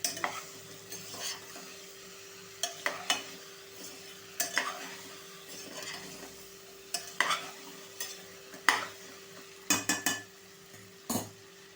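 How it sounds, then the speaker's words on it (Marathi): Half a kilo of okra is stirred with spices in a pan, a spoon scraping and clinking against the metal in irregular bursts over a faint sizzle and a steady low hum, with no talking. "आता आपण भेंडी मस्त अशी मसाल्यांमध्ये मिक्स करून घ्यायच्या"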